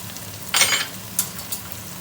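Spice masala for anda chana sizzles in a pan, a short crackling burst followed by a couple of brief hissing flare-ups as the mixture is stirred, close and moderately loud.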